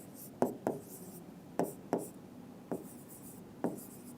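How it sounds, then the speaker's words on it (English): Numbers written out while working a reasoning problem, heard as six short, close taps and scratches of a pen or marker in an uneven rhythm, with no talking over them. "first I'll write all the numbers."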